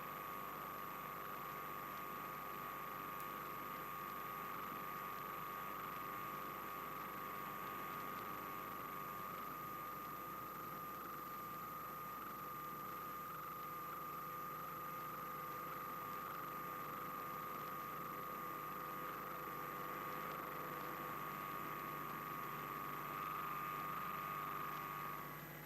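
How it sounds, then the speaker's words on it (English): A bomber's engines running on the ground before takeoff during a 1951 nuclear test operation, a steady droning hum with a sustained whine, continuous and even with no voices. "The bomber ready, it moves off to wait its takeoff time under double guard."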